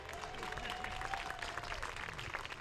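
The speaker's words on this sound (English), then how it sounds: "big round of applause." A graduation audience claps steadily, a soft, distant wash of many hands without pause, a faint voice or tone drifting underneath.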